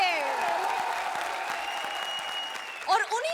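A studio audience on a comedy show applauds under a sustained musical tone, a dense wash of clapping that continues throughout, with a voice rising briefly near the end.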